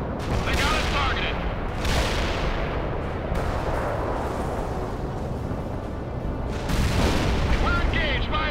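Heavy tank cannon fire and booming explosions roll through a World in Conflict battle, dense and continuous with repeated blasts, while radio-style voices speak over the combat.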